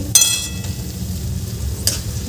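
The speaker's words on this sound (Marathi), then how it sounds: "आता हे वाटण आपल्याला छान याचं कच्चेपणा जातपर्यंत याला छान शिजवून घ्यायचं आहे" Ground masala paste for a Maharashtrian pavta (popat bean) curry frying in a pan over low to medium heat, giving a soft steady sizzle with a couple of brief clinks of a spoon against the pan.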